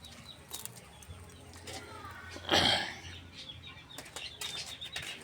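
Pet Belgian pigeons beat their wings in one brief, loud flurry near the middle, with faint background sounds and a soft voice around it.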